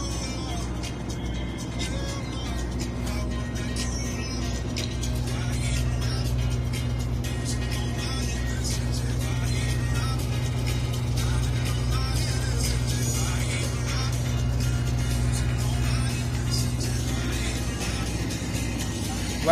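A tour bus drives along with a steady low engine drone and continuous road rumble, a constant hum holding throughout at moderate loudness.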